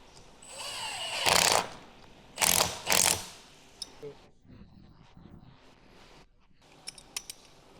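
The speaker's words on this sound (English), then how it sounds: "Use a 10mm socket to tighten the V-band clamp" Three loud bursts of rapid ratchet clicking from a socket wrench with a 10mm socket tightening a turbo V-band clamp on a Ford Fusion, close up, followed by a few quieter clicks and faint handling noises.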